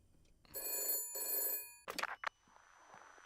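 A telephone bell rings twice in a video game, two sustained electronic trills separated by a short gap, followed by brief clicks and faint room tone.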